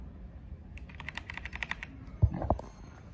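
Fingers type on an Asus M801 TKL mechanical gaming keyboard with Kailh Red switches, producing a rapid run of close clicking keystrokes followed by a few heavier, louder key presses near the end, with no talking.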